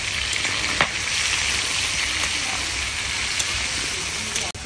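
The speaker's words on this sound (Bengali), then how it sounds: "এবার নাড়াচাড়া দিয়ে নেওয়া হচ্ছে আলুটা হালকা ভাজা ভাজা করে" Potatoes stirred and lightly fried in a pan with onion and spices, a steady bright sizzle with a few clicks of the spoon against the pan.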